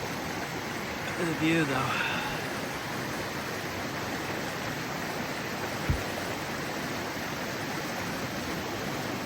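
Broadband rushing of a glacial river in Tasermiut Fjord, Greenland, fed by snowmelt, a steady wash of flowing water heard throughout while a person speaks briefly over it.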